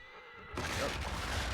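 A horse neighs in the game Shadow of the Colossus Remake, a loud, bright whinny that bursts in suddenly after a quiet moment and rings on for about a second over game ambience.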